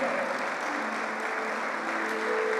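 Steady, dense applause from a church congregation during a sermon, even and sustained throughout with no breaks.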